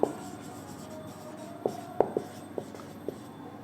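Chalk or a marker taps and scratches on a board in a quiet classroom as chemical reactions are written out, with a few short, faint strokes and sharper clicks spread through the moment.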